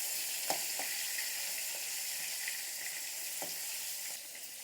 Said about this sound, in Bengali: তেলটা গরম হয়ে গেছে, এক এক করে কই মাছগুলো দিয়ে দিচ্ছি।